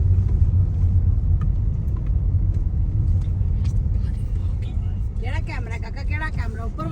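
A car rolls in to park at Trafford Plaza in the UK, with a steady low engine and road rumble filling most of the stretch, then easing as a voice begins talking near the end.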